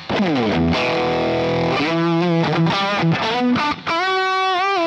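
A loud, thick fuzz-distorted electric guitar through a Bender Fuzz on a Fractal FM9 plays sustained chords and bends, saturated and buzzy, with brief gaps between phrases.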